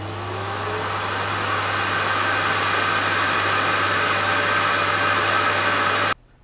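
A vacuum cleaner runs with a loud, steady whooshing drone and a low hum, holding constant for about six seconds before cutting off abruptly.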